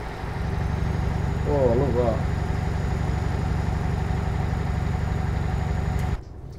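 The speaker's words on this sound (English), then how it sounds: "you can hear the engine, the turbo" A truck's engine in Euro Truck Simulator 2 drones steadily at a low pitch with a faint turbo whine on top, running continuously under a man's brief speech until it cuts off abruptly near the end.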